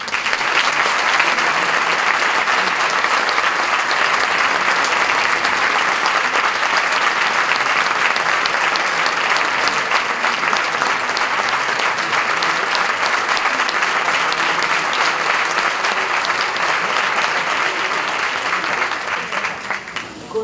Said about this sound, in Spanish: Les ruego un fuerte aplauso para pedir la presencia en el escenario del director de la agrupación